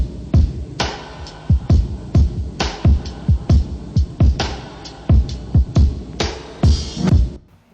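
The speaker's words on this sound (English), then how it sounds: "so that was the original drum break" A looped original drum break sample plays alone, with steady, punchy kick and snare hits in a driving groove and bright cymbal wash over the top for about eight seconds.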